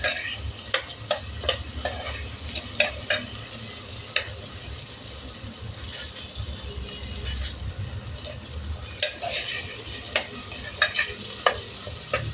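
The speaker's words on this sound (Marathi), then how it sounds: "1-5 मिनिटं आपण असं शेंगा परतून घेणार आहोत।" Drumstick pods sauté in a pan: a continuous sizzle with repeated scraping clicks of a spatula stirring at an uneven pace.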